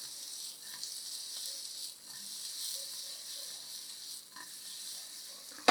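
Paneer cubes frying in a pan give a steady, fairly quiet sizzle throughout, with a few faint clicks of turning pieces and no talking.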